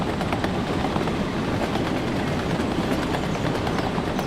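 A train rolling along in the Soviet-era management game Workers and Resources: Soviet Republic, a dense, continuous rumble with rhythmic clatter throughout, steady and fairly loud with no speech.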